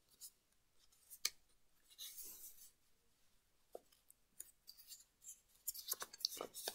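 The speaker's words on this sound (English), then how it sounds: "So next I'm going to fold these sides to the middle" Paper folded by hand for an origami lily, heard as faint close crinkles, sharp creases and soft rubbing strokes in a quiet room, with brief gaps between folds.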